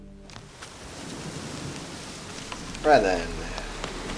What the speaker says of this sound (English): Why is it always bloody raining in here?